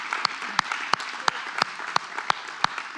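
An audience applauds mothers at a Mother's Day celebration, a thin spread of clapping punctuated by a few sharp, evenly spaced louder claps, close and steady, with no talk over it.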